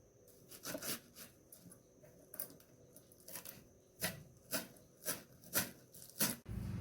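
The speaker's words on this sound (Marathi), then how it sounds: "अशी कोथिंबीर आहे ना बारीक मस्त चिरून घेऊया" Knife chopping fresh coriander leaves on a cutting board for kothimbir vadi, a run of crisp, close taps coming in uneven bursts that turn faster and more regular toward the end.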